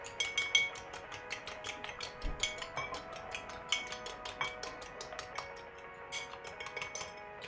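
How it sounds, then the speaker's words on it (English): A fork beats an egg in a bowl, giving a fast, steady run of light metallic ticks and clinks against the bowl for several seconds, close by with no talking. "so on a fork, so let's give this a bit of a mix"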